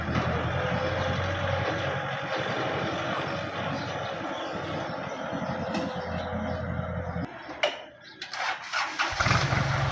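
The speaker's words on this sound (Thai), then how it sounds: "คันนี้เครื่องดีนะครับ เครื่องเงียบ" A Kubota farm tractor engine, 36 or 47 horsepower, runs close by with a steady, smooth diesel drone, briefly dipping before revving up again toward the end.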